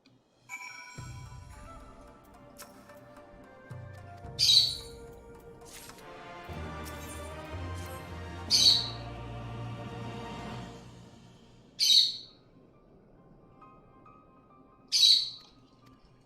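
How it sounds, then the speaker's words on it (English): A pet bird lets out four sharp, loud squawks at regular intervals over a steady, low backdrop of game music and sounds. "Be quiet, Bird."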